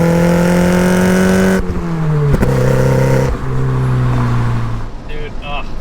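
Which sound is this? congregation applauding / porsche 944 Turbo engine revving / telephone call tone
porsche 944 Turbo engine revving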